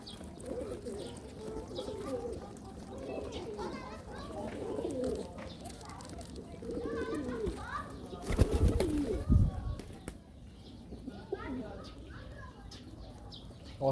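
Pigeons coo softly in repeated low calls beneath frequent nearby talk, with children's voices and a burst of louder handling noise partway through.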